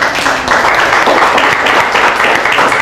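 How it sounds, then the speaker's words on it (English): Audience at a Startup Weekend event in Manila applauding to welcome a judge onstage, a brief burst of loud, close, dense clapping. "Everyone, let's give her a round of applause."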